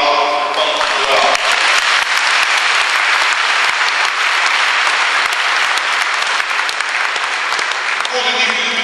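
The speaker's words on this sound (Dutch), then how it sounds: "ik vraag graag om een applaus van de zaal" Hall audience at an agricultural organisation's day applauding a speaker, loud sustained clapping from a large crowd that swells in after a short spoken moment and continues evenly until talk resumes at the end.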